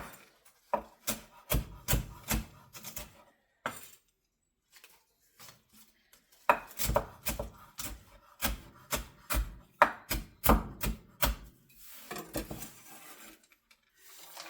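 A knife chops thick-cut smoked bacon on a cutting board for a broccoli salad, a fast run of sharp, close taps in bursts with short pauses between and a scraping sweep near the end.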